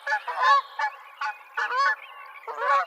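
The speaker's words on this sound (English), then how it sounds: "The bird of the week this week is the Canada goose." Canada geese honk in a series of five loud, close calls, each a short nasal burst separated by brief pauses, with no other sound around them.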